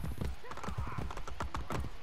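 Horse hooves clip-clop in a quick, steady rhythm in Assassin's Creed Brotherhood, close and loud, with a brief whinny and a voice talking over the hoofbeats.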